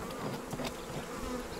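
Honeybees buzz in an opened hive, a dense, continuous hum of many insects heard close, with individual bees whining past, fairly faint and without speech.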